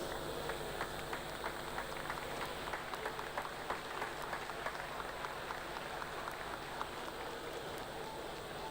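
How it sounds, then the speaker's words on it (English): An indoor crowd at a county swimming championship applauds officials and volunteers, a steady patter of many hands clapping that carries on for several seconds at moderate distance. "I will give a big round of applause to all the officials and volunteers for this weekend"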